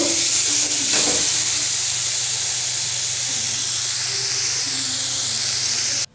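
Vegetable curry of beans, potato and tomato cooking in a pan, a continuous loud sizzle and steamy hiss with a brief stirring scrape early on, cutting off abruptly at the end.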